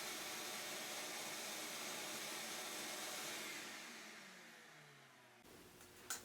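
A homemade cyclone dust collector sucking wood chips from a jointer, a loud steady roaring whoosh that gradually winds down and falls away, ending with a brief clunk.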